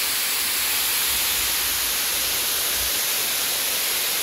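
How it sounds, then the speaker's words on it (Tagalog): Continuous loud rush of flowing water at Tai Tam Reservoir, even and unbroken throughout, with a faint low rumble underneath and no talking. "Nakaka-fresh yung tunog ng water."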